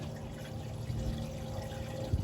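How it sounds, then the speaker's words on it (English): Coolant poured from a bottle into the radiator of a 1966 Buick Wildcat, a steady low gurgling pour close by with no talking. "Pouring on the side like this prevents the bottle from glugging and spitting it out everywhere on you."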